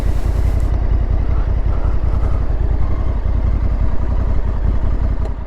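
Honda Africa Twin motorcycle engine idling at the roadside, a steady low rumbling chug that stays constant throughout, close and loud with no voices.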